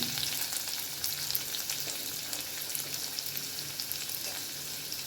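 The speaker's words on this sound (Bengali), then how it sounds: "এর মধ্যে আমি দিয়ে দেব চপ রসুন" Chopped garlic sizzles steadily in hot oil and ghee in a pan while cooking chicken jahangiri, a continuous loud frying hiss with no pauses and no voices.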